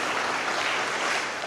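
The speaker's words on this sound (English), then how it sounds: "I just want to give a round of applause to the ABCC for coming out" Audience at a city alcohol licensee seminar applauding, a short, even burst of many hands clapping heard alone at moderate loudness.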